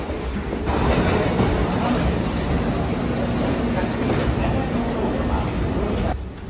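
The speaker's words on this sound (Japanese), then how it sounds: "乗車します鈴鹿線のね、平田町行きの電車に乗車していきたいと思います" Steady, loud rumble of a three-car Kintetsu Suzuka Line train bound for Hiratacho, a continuous broadband roar that holds evenly throughout before easing slightly at the very end.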